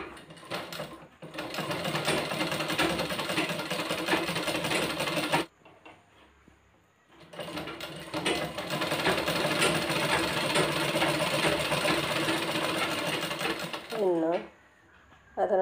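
Sewing machine stitching a folded quarter-inch fabric strip in two long, loud runs split by a brief quiet gap, close to the microphone.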